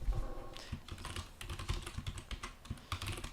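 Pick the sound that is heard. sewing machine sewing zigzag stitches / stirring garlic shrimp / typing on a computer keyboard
typing on a computer keyboard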